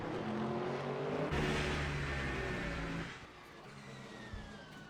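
A Porsche race car engine in Le Mans Ultimate, racing at Circuit of the Americas, roars loudly and close with rising revs, then drops away and fades into a lower drone after a few seconds.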